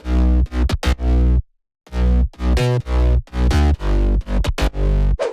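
Sub and mid bass layered together in a future house track, loud and punchy, playing a choppy rhythmic riff of distorted notes with one brief silent gap early on.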